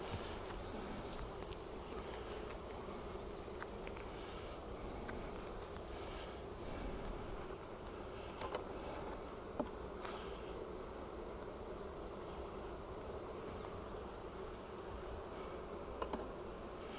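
Bees buzz softly around an open hive during a honey harvest, a faint continuous drone with a few small clicks and taps nearby, and no voices.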